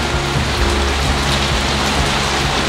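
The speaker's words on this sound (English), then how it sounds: "So when I say it was raining, I'm not kidding." Heavy rain pours steadily, a dense loud hiss of drops drumming on surfaces with no pauses.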